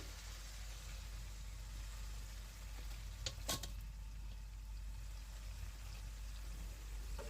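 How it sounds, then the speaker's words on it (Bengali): Chicken stirred and fried in spice paste for chicken curry, a low, steady sizzle with a short clatter of stirring midway, close and fairly quiet. "তো এখন আমি চিকেনটা দেওয়ার পর ভালো করে নেড়ে চেড়ে দিচ্ছি, যেন মশলার সাথে চিকেনটা ভালো করে মেখে যায়।"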